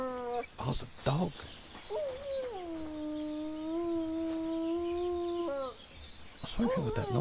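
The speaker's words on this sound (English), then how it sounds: "It's a weird sounding dog." A dog in the Kingdom Come Deliverance 2 video game lets out a long, steady, strangely tonal howl lasting several seconds, with short yelping barks before and after, set against faint ambient game sound.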